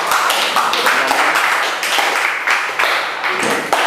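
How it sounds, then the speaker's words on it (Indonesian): A classroom of vocational automotive-engineering students claps together for a student group, loud and close, a dense burst of steady applause lasting the whole few seconds. "beri tepuk tangan untuk kelompok 3"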